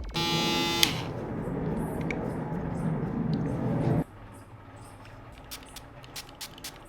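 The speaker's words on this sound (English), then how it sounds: "come in with the shaver and get anything that you may have missed" An electric shaver trimming a beard buzzes close and steady for about four seconds, then cuts off, leaving faint scattered taps and handling noises.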